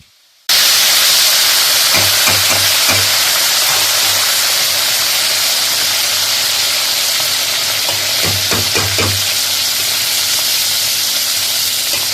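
Steady, loud sizzling of round red chilies and mustard greens frying in hot oil for sarson ka saag, with a few brief clatters of stirring partway through.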